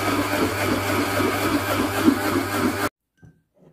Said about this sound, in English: Then, start to blend.